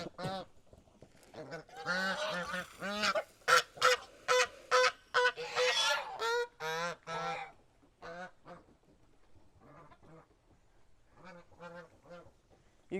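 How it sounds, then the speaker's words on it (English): Geese honking in a backyard poultry yard at feeding time, a loud run of repeated harsh honks in quick bursts that thin out to scattered calls near the end, with no talk. "You gotta watch them geese, folks."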